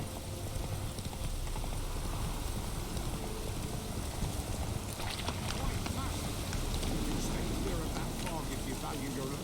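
Horse hooves clip-clopping at a gallop in The Witcher 3, a steady rapid beat carried under wind and game ambience, continuous and fairly loud throughout with no talk.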